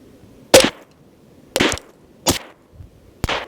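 Five sharp rifle shots from a lightweight 6mm Creedmoor AR-10, fired as a group from a rear bag, crack out loud and close at uneven intervals of roughly a second, with the last two close together.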